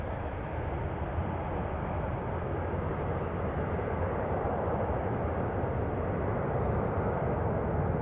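A departing airliner bound from Amsterdam to Reykjavik roars steadily from a runway, a broad, sustained engine rumble holding even and moderately loud throughout with no talk.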